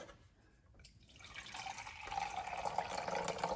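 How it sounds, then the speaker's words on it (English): Two cups of water poured onto rice in a kitchen pot, a steady splashing pour that builds from quiet to a fuller, brighter rush over a few seconds, close by with no talk. "Pour that right there on the rice."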